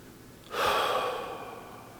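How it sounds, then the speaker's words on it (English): One deep, relaxing breath is drawn in sharply and close, then eases off into a longer, softer exhale. "Sometimes it's important to just take a breath."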